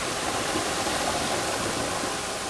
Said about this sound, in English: it's a force of nature to have that amount of water coming in at that kind of pressure